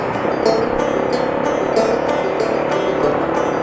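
A Yamaha Tricker motorcycle rides on newly fitted clutch plates that replace the old steel ones. Its engine drones steadily and loudly with a constant whirr of wind and road noise, and no one talks.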